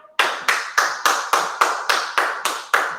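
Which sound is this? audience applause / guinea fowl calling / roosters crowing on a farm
audience applause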